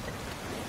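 Steady rain in the pirate video game Sea of Thieves, a dense, even hiss of falling drops that continues evenly over a very short stretch, with no speech.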